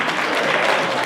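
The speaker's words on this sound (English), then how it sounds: "we gotta clap." Wedding guests clap together in a steady, dense burst of applause, loud and close, filling the short moment without any talk.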